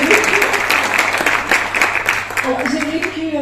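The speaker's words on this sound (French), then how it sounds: "J'aimerais que vous applaudissiez, Dr. Aline." An audience at a colloquium claps steadily in sustained applause, with a voice speaking over the clapping.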